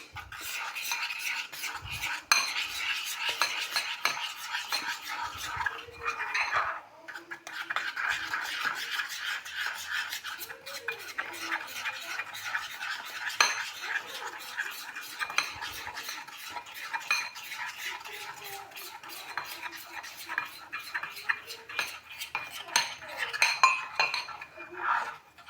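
A spoon stirs icing in a bowl after a small splash of milk, giving a steady run of close scraping clinks against the bowl with brief pauses and no talking.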